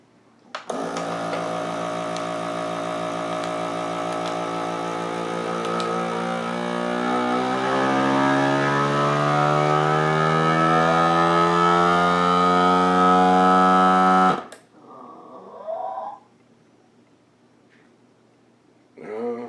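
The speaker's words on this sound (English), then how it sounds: "Then I press the vac seal button and it will seal it automatically and stop when the machine feels it is done." FoodSaver FM2000 vacuum sealer running a steady loud motor whine that rises in pitch for about fourteen seconds as it draws the air from a bag and seals it, then cuts off abruptly, followed by faint handling clicks.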